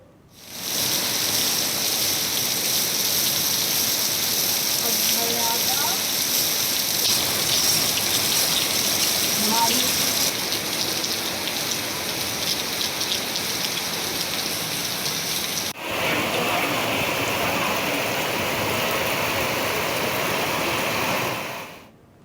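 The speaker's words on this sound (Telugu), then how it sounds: "తెలుగు రాష్ట్రాల్లో పలు చోట్ల భారీ వర్షాలు కురిసే ఛాన్స్ ఉందని చెప్పింది" Heavy rain pours down in India's Telugu states, a dense, even hiss of downpour on surfaces that holds steady for over twenty seconds with no voices.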